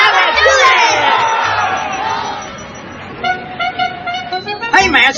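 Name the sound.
crowd cheering wildly after a touchdown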